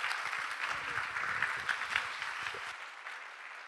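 Retreat audience clapping for its speakers and presenters, a moderate round of many hands that holds steady and then thins and fades toward the end, heard from a little distance.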